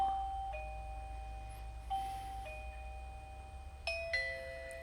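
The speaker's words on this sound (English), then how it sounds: "Pushing the doorbell." A eufy Familock S3 Max smart lock's electronic doorbell chime rings twice in bright sustained tones, the second ring a few seconds after the first, over a low steady hum.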